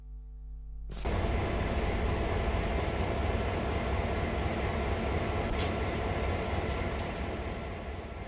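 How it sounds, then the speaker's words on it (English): Train Sim World GP38 diesel-electric locomotive from EMD General Motors, a steady loud rumbling drone that starts abruptly after a brief lower hum and holds evenly throughout with faint clanks. "This is the latest generation general purpose Type 38 locomotive built by the Electromotive Division of General Motors"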